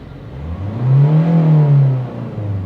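A 2020 Kia Sonet HTX+ diesel manual, parked at a standstill, gets a single sharp blip of the throttle. The engine climbs quickly to a loud, steady rev, holds it about a second, then drops back to idle.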